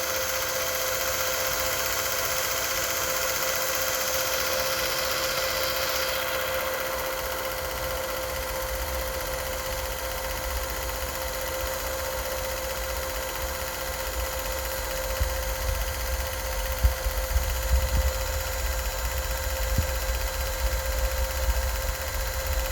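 A Super 8 film projector runs with a steady mechanical whir and hum, close and continuous; the tone shifts after a few seconds and faint clicks and low rumbles appear later, with no talking.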